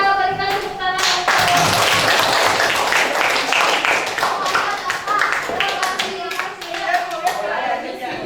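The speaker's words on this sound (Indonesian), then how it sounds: "kita berikan tepuk tangan untuk" An audience of teachers or students claps for a group after its classroom presentation, a sustained burst of hand-clapping that fades into scattered claps, with voices talking over it.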